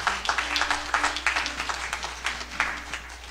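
A church congregation claps hands in praise during a service, a scattered round of applause of moderate loudness with faint background voices.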